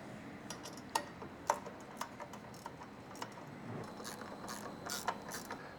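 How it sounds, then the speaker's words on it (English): Ratchet clicks while the bottom bolts of a roof rack mount are tightened on a Subaru Crosstrek, several sharp ticks spaced across a steady background hiss, fairly faint. "lock it in place by tightening these bottom bolts"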